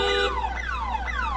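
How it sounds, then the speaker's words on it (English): A car alarm blares nearby, cycling through repeated descending electronic sweeps, about three rapid whoops in quick succession over a steady low hum, loud and uninterrupted, with no voices heard. "That's my car alarm."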